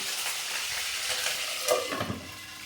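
Eggplant pieces frying in oil hiss and sizzle steadily at moderate level, with a brief bubbling pop and a soft stir midway through.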